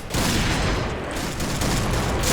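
Dense, continuous gunfire from the PUBG video game, loud and sustained throughout with overlapping shots and no pauses.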